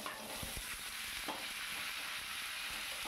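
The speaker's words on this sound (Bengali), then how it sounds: "এবার ঝিঙেগুলোকে আস্তে আস্তে সমস্তটা ছেড়ে দেব।" Sliced ridge gourd drops into a pan of fried mung dal and sizzles loudly in a dense, constant hiss, with a few soft thuds as pieces land and get stirred.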